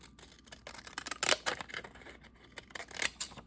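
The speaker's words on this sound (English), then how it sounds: "I'm going to use these jaggedy scissors to" Jagged-edge craft scissors snip through paper for fall ephemera, a run of crisp, close cutting strokes in uneven bursts, loudest around the middle and end, with no talking.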